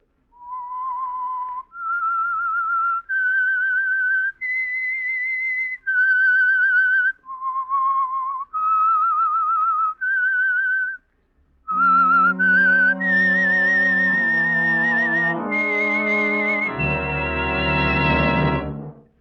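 A solo human whistler performs the eerie theme signal for the old radio mystery program The Whistler, the Signal Oil Program. It is a clear, steady melody of held notes with a brief pause, then orchestral chords swell in beneath the tune.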